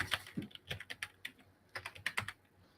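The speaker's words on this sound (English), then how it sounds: "Where are you typing it? In Google, because I was checking myself." Someone types on a computer keyboard in uneven bursts of crisp, close keystrokes, with short pauses between flurries and no talking.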